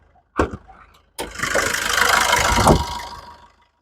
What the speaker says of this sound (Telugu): చాలా సైలెంట్ ఉంది ఇంజిన్ మొత్తం.